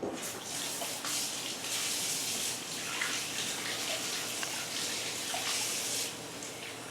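Water runs steadily into a jar packed with cabbage for homemade sauerkraut, a continuous close splashing and gurgling pour that carries on for several seconds without pause.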